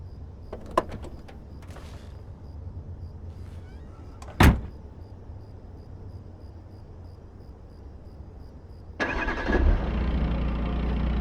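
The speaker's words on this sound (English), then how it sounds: "Now get in the car and start it up." A car door shuts sharply in a Beyond Two Souls game scene, followed by a few faint clicks and quiet ambience. Then the engine starts up and settles into a steady, loud running rumble.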